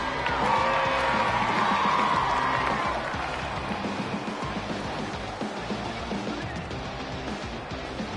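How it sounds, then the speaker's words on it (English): A rugby league crowd cheering a try at a home ground, a broad roar that is loudest at the start and then eases into a sustained murmur of noise. "The crowd here like that try."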